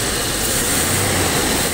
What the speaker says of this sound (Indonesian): Mesinnya sudah terasa pincang terus.